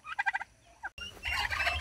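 A quick series of gobbles from male turkeys rattles out in rapid pulses, followed by a short pause and then more gobbling mixed with background noise.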